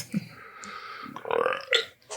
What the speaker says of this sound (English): Keep that belch in there.